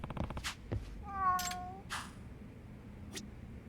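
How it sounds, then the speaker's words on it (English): Cat in the video game Lost Judgment giving a single clear, fairly close meow, surrounded by faint ambient game sounds and a few soft clicks. "Oh, hi, there's a cat."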